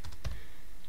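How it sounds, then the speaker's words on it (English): Several quick clicks of keys on a computer keyboard are heard close by in a quiet room, three or four taps within under a second. "we're going to type in at the top"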